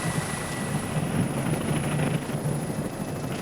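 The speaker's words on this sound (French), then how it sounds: "Impossible pour l'hélicoptère de se rapprocher de la paroi." A helicopter hovers near a steep cliff face on Réunion island, its rotor chop and turbine whine steady and loud at close range, with no talk over the engine noise.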